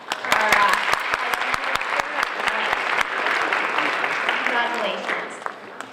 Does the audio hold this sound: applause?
yes